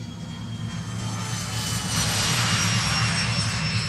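Fixed-wing aircraft engines roar steadily and loudly throughout, a sustained broadband rumble that swells slightly louder in the second half, like planes powering up for takeoff, with no voices.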